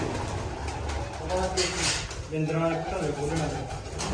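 Pigeons coo in soft repeated phrases among a loft of prize-winning racing birds, heard under someone talking nearby.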